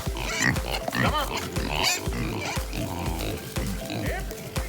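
Kune Kune piglets in a pen grunt and oink over and over in short, close, overlapping bursts, with rustling and movement around them and no clear speech.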